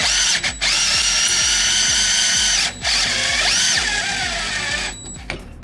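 A TECCPO cordless drill runs under full load driving a bolt through, a loud steady motor whine with a grinding, ratcheting rumble underneath, briefly cutting out twice and dipping in pitch near the end.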